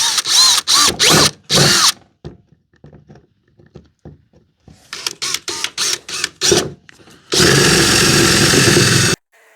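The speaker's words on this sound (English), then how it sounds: "I can just drill right here." A power drill bores through a metal plate inside a 2009-2014 Ford F150 during a radio upgrade, in several short loud whirring bursts, a stretch of quiet rattling and clicks, then one long sustained drilling run.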